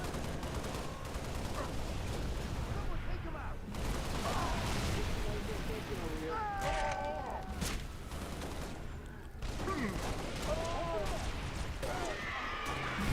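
Fuel rod cannon fire and explosions in Halo: Reach, as heavy booming blasts and crackling weapon fire under steady talk throughout.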